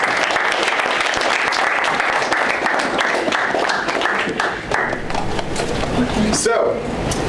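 Applause from a graduation ceremony audience: dense, sustained clapping fills the room steadily, with voices mixed in beneath it and a brief louder rise near the end.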